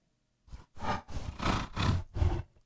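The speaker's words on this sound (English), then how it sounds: "almost like you've got a black leopard growling as well" A processed, black-leopard-like animal growl made with the Krotos Reformer plugin comes in six breathy, panting pulses of rising and falling intensity, close and fairly quiet.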